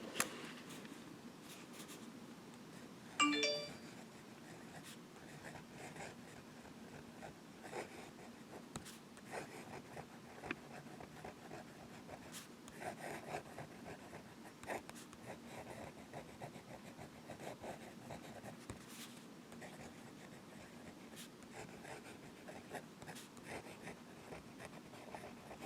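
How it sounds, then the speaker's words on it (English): A turquoise Giant Sequoia fountain pen writes on paper with a faint, soft, continuous scratch of the nib, broken by small strokes and pauses, plus one brief louder knock near the start in an otherwise quiet room. "So let's get to writing with it."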